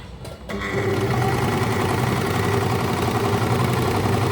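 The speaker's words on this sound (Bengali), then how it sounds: "সুইচ অন করার পর মোটরে চাপ দিলে মেশিন চলা শুরু করবে" A Butterfly JH8190S sewing machine's motor kicks in after a brief pause and then runs steadily with a continuous whirring hum at a constant pace until the end.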